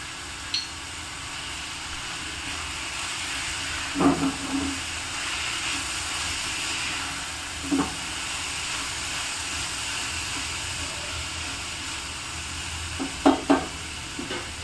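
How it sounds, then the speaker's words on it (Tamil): Mint, coriander and curry leaves sautéing in a pan with salt, a steady low sizzle and hiss with a few brief clinks of stirring, fairly faint and without talk. "எல்லாத்தையும் போட்டு நல்லா வதக்கி எடுக்கலாம்"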